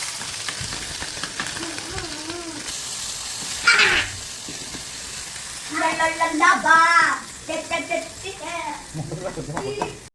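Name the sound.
small fish frying in oil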